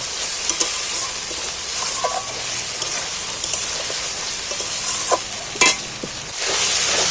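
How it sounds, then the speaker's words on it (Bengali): Ginger-garlic paste frying in oil in a pan, a bright steady sizzle with intermittent scraping clinks of a spatula stirring, close-up and without speech. "আদা রসুন দুটোকেই একটু তেলের মধ্যে ভেজে নেব"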